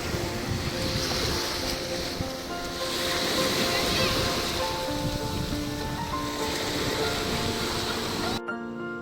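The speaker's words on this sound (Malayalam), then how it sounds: "ഇത് കവരത്തിയിൽ ഞങ്ങൾ താമസിക്കുന്നതിൻ്റെ അടുത്തുള്ള ബീച്ചാണ് കേട്ടോ" Ocean surf rolls continuously at a beach near Kavaratti in Lakshadweep, a steady wash of waves mixed with gusty wind buffeting the microphone, fairly loud throughout before cutting off abruptly at the end.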